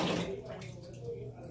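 Cold tap water runs while dishes are washed, a short rushing stream near the microphone that eases off slightly, with a voice faintly present.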